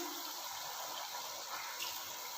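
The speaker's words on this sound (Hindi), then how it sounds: "अब इसमें थोड़ा सा पानी जो है वो डालते हैं" A little water streams steadily into a pot of chicken pulao, a continuous hissing pour with no talking.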